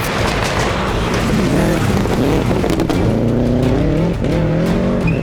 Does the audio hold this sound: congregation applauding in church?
no